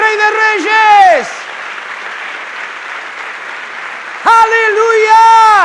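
A church congregation at an annual retreat worship service claps for the Lord: a steady wash of applause fills the middle, with a loud, raised voice before and after it.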